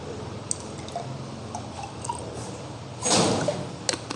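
Pure water is poured into a glass test tube, heard as a short, soft splash and trickle near the end against a quiet room hiss, followed by a couple of faint clinks.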